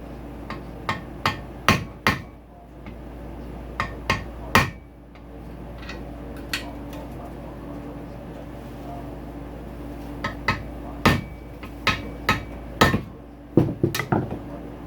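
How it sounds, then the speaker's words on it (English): Sharp metallic hammer strikes ring out in irregular bursts, some in quick pairs and runs, tapping a flathead screwdriver against a dented motocross dirt bike radiator seam at close range. "And then hit it with a hammer."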